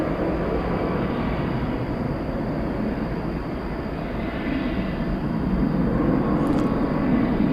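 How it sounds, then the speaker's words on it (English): An Airbus A320 arriving from San Antonio approaches at night at DFW Airport, giving off a steady, loud jet roar that swells slightly toward the end. "we've got a flight coming in from San Antonio, Texas"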